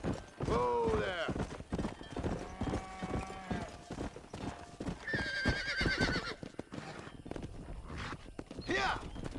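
Horse hooves clip-clopping and a loud whinny in the Red Dead Redemption video game, with neighs sounding near and clear amid game music and effects, while characters talk over much of it.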